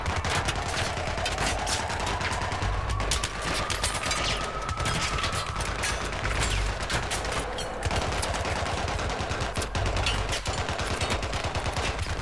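Continuous machine gun fire rattles through the Battlefield 3 video game, rapid overlapping shots at a steady moderate level with a rising engine-like whine in the background.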